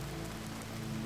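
Soft, steady rain patters continuously on a surface, with a low, even hum underneath, close and unbroken, no voices.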